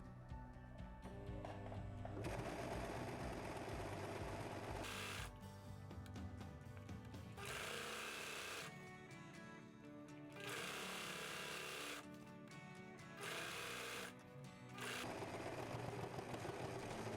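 Sewing machine hemming the bottom of a dress made from a djellaba, running in several bursts of rapid mechanical stitching separated by short pauses, fairly close and steady.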